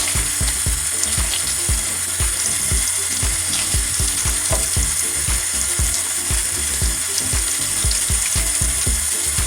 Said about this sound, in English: I'm going to go ahead and rinse it out.